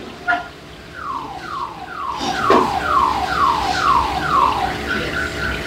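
A motorcycle's anti-theft alarm padlock wails in a repeating series of falling electronic sweeps, loud and close over street background noise, with a thump partway through.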